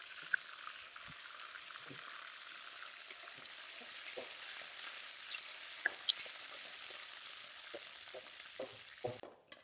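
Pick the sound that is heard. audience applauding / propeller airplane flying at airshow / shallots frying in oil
shallots frying in oil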